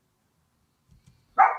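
After a couple of soft thumps and near silence, a dog lets out one sharp, loud bark close by that trails off quickly.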